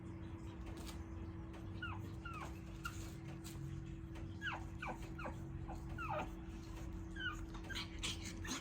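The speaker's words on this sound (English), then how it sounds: "I'm sorry, these dogs." Indoor dogs whimper and yip in short, high, rising cries repeated in bursts over a low steady hum, faint and fairly close, with no speech.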